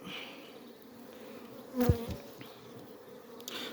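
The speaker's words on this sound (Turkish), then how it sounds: "Şurada bir arı var." A soft honeybee buzz drones steadily around a hive, rising briefly in a louder burst near the middle before settling back to a low hum.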